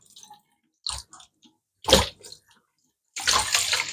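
A cleaning cloth is wetted under running water: a few short, scattered splashes and drips, then a louder steady rush of water toward the end, with no talking.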